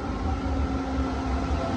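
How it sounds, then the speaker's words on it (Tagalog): An LRT train pulls into the station with a steady, loud rumbling drone and a faint whining hum, unbroken throughout. "The train is coming, ayun na."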